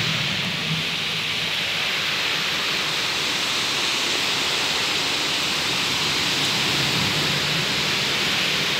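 Heavy rain pours down in Bucharest, a loud, dense, unbroken roar of falling water with no voices, steady for the whole stretch.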